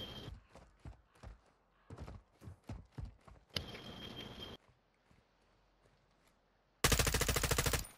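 Automatic fire from an M4 rifle in Warzone, tuned for no recoil, comes in several close, sharp bursts of rapid shots separated by short pauses, ending in one very loud, dense burst.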